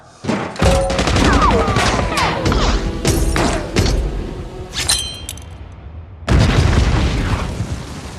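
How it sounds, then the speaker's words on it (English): A bomb exploding in the 2021 action thriller Nobody, a barrage of loud booms, crashes and debris, fading and then another heavy blast and rumble near the end. "Hutch reaches Julian and kills him by blasting a bomb."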